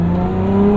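Modified 2024 Lotus Emira accelerating in track mode, a loud sustained engine drone held steady through a brief burst, close up inside the car with no talk.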